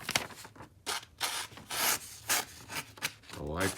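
A sharpened knife slicing through paper in a sharpness test, giving a series of dry raspy swishes and rips in short bursts, close and alone.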